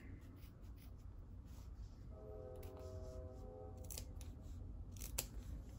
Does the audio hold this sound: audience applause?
no